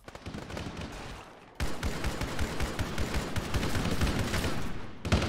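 Gunfire in the military game Arma 3 during a supply convoy ambush: a quiet lull, then dense, sustained rattling bursts of automatic fire that carry on loudly with no pause.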